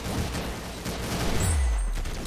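Pistol shots in the Roblox shooter Arsenal, a dense burst of loud close gunfire with a deep boom near the end.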